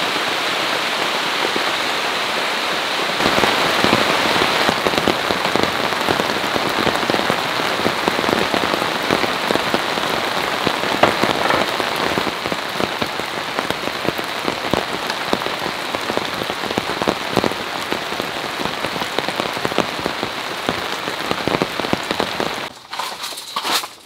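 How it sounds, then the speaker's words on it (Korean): Rain falls steadily on surfaces around a car during car camping, a dense, loud, close patter with scattered heavier drops and no pauses. "아직도 비가 오긴 하지만 지금 아까보다는 지금 훨씬 많이 그친 상태예요"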